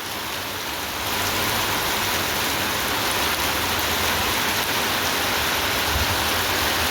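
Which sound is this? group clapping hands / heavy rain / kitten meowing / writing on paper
heavy rain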